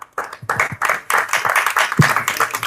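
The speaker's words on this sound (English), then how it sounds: "Give him applause." An audience applauds Olympian Ron Freeman at a gathering in Ghana, with steady close clapping from many hands that continues throughout.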